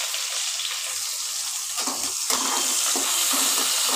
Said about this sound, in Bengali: সেই পেঁয়াজ কুচিটা দিয়ে দিচ্ছি এর সঙ্গে।